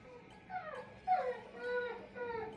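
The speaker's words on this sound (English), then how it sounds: "can you hear my dog crying outside?" A dog cries and whimpers outside in drawn-out, wavering whines that rise and fall several times, fairly faint and distant, with no talking over it.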